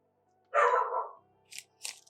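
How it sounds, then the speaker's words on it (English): A dog barks indoors, one drawn-out bark followed by two short, sharper yaps, heard from a little distance in an otherwise quiet room, with a faint clatter in between. "Oh, hold on, my dog's barking."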